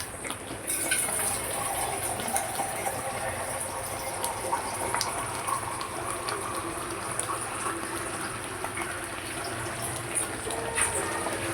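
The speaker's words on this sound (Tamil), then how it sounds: "தண்ணி விட்டுங்க தேவையான அளவுக்கு" Water poured steadily into a pot of bat fish (pomfret) curry for Indian cooking, a continuous gushing splash running on and on with a faint background hum.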